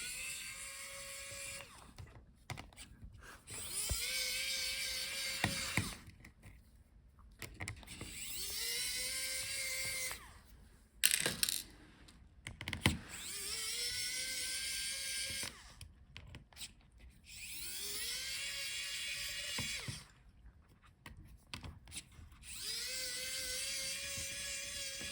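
Hinge screws on an HP Pavilion Aero 13z bg000 laptop are backed out with a small powered driver, giving several whining motor bursts of a few seconds each, separated by short pauses, close and fairly quiet.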